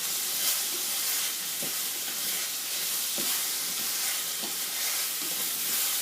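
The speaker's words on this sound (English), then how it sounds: "You don't have to cook it for too long, just for it to coat the carrots." Carrots cook in a glaze in a pan, giving a steady soft sizzle with a few faint stirring scrapes at regular intervals.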